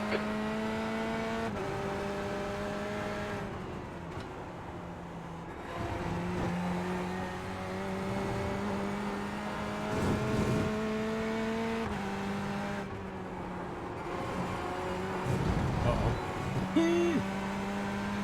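Race car engines in the iRacing simulator drone and shift pitch as a faster class car closes from behind, steady revving with gear changes, while a voice talks over it.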